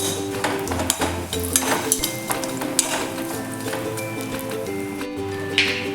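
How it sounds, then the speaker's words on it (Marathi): Finely grated coconut roasts in a little oil in a pan over a medium gas flame, with a spoon clinking, scraping and stirring against the metal over a soft sizzle, close and fairly loud. "आणि आपण आपले हे खोबरे मीडियम गॅसवरती छान असे परतून घेऊया"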